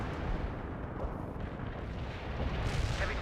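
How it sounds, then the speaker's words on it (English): Bomb strike explosions in World in Conflict rumble as a dense, continuous low roar of blasts, loud and sustained with no clear gaps between impacts. "Bomb strike was on the mark."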